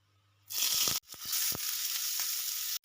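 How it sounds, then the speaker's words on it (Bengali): Finely chopped onion and garlic cloves hit hot white oil on a tawa for chowmein and burst into a loud, continuous sizzle, with brief stirring scrapes in between. "তাওয়ার মধ্যে দিয়ে দেবো অল্প পরিমাণে সাদা তেল কিছুটা পেঁয়াজ একটা বড় সাইজের পেঁয়াজ আর দশ বারোটা রসুনের কয়া এরকম কুচো কুচো করে নিয়েছি এবার এই তেলে এটা ভেজে নেব"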